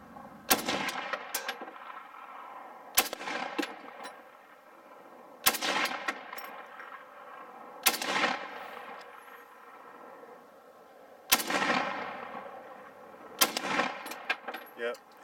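An M1A rifle fires .308 (7.62x51) rounds at steel disc brakes: six sharp, loud shots spaced a few seconds apart, each with a ringing impact and a decaying echo.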